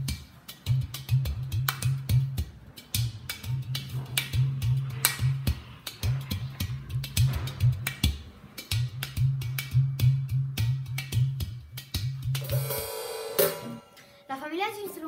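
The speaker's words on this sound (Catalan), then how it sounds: "Aquest és el udú, ve de Nigèria" A Nigerian udu clay drum played by hand, with deep hollow bass tones in repeated rhythmic phrases under sharper slaps and taps, close and clear, ending with a few ringing pitched notes.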